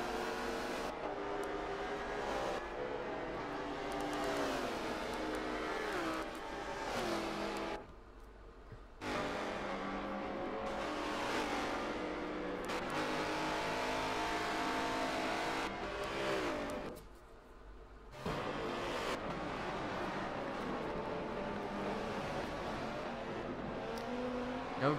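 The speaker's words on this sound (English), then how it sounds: "Tony RL's gonna go for a crossover" GT4 race cars, including an Alfa Romeo and an Audi R8, lap Yas Marina in a racing video game, engines droning and revving steadily with two brief dips as cars ease off, loud and continuous without voices.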